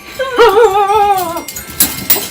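A puppy named Paisley lets out a single drawn-out, wavering whimper, close and fairly loud, followed by a few faint soft yips and rustles.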